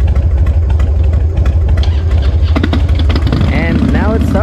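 A motorcycle engine fires up and settles into a steady, loud low rumble near the listener, with voices talking over it and a few sharp higher sounds toward the end.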